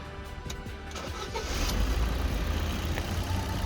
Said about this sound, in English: Well, that's the engine running.